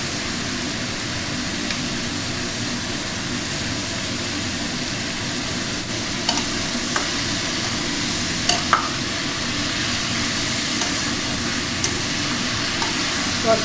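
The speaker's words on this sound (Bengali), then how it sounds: "নাড়াচাড়া করছি, নুন দিয়ে দেবো।" Papaya pieces stir-fried in a pan for a chicken stew give a steady, loud sizzle with occasional clicks of a spatula against the pan, close and continuous, no talking.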